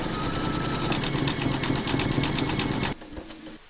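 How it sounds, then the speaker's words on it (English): An embroidery machine satin-stitches around appliqué leaves, a steady, fast, close mechanical whir with a rapid needle rhythm that runs for about three seconds, then stops abruptly, leaving faint clicks and quiet room noise. "We're now going to stitch round number 11, and that's the satin stitching around the leaves."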